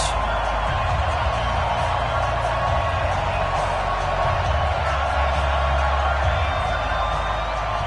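A stadium crowd in an American football video game between the Jacksonville Jaguars and the Detroit Lions produces a steady, dense roar of cheering that holds at an even level throughout.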